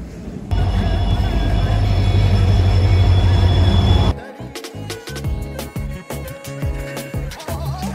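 Loud rumbling of a Jodhpur Express train standing at a long, dim station platform during boarding, steady and heavy for about four seconds before breaking into scattered clanks and knocks.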